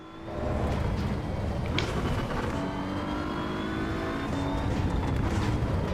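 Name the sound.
BMW M4 car engine in Assetto Corsa EVO video game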